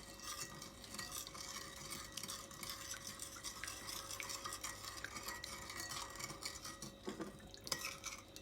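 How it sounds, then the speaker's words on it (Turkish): A spoon stirs a pudding mixture in a pot, producing a soft, continuous scraping and swishing with faint metallic clinks, quiet and close, with no voices. "İçindeki parçalar iyice erinceye kadar bir süre böyle kaşıkla karıştıracağız."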